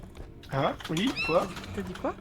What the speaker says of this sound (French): Il y a eu un bruit de chat?